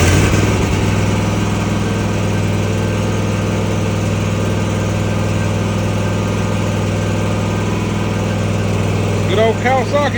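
A Kawasaki lawn mower engine runs at a steady idle, a loud, constant low drone with a firm hum that holds for the whole stretch, while a voice speaks briefly near the end.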